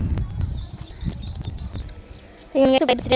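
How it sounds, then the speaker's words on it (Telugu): A bird chirps in short, bright repeated notes at a moderate distance over low background rumble, then a louder, closer burst of chirping breaks out at the end. "ఇక్కడ బర్డ్ వస్తుంది."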